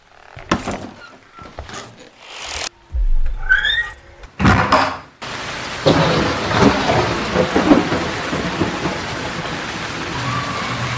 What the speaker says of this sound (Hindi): इससे पहले कि बारिश और भी तेज हो जाए।